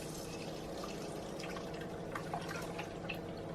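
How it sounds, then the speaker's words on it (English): Custard mixture is poured through a sieve into an oven-proof dish, producing a soft, steady trickle with small dripping splashes that grow slightly busier toward the end, quiet and close with no speech. "now I'm going to pour this through my sieve into my oven-proof dish."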